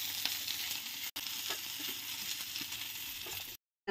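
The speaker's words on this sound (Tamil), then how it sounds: "நல்லா இது முறு முறுப்பாக வறுத்து எடுத்துடலாம்." Fish frying crispy in hot oil, a close, fairly quiet steady sizzle with faint crackles, briefly cut off near the start and ending in sudden silence.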